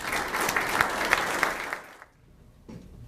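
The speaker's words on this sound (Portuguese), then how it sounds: "recebam com aplausos o nosso homenageado" Applause from a luncheon audience for the honoree, president of a federal regional court, a dense, steady clatter of many hands for about two seconds that then fades quickly to near silence.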